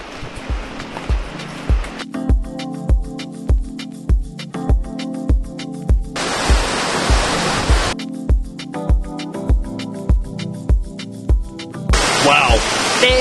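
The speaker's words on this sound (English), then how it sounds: "Kravice Waterfall, multiple cascading waterfalls" Kravice Waterfall in Bosnia, several cascading falls, giving a loud, steady broadband roar of rushing water; a rhythmic series of low thumps runs beneath it throughout, and a brighter burst of spray noise rises near the end.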